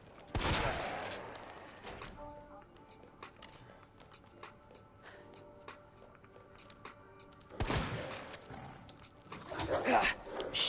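Shotgun blasts in a Resident Evil speedrun as Leon: a loud broadband report near the start and another burst around the eight-second mark, with game ambience and tonal music between, and talk occurring in the clip.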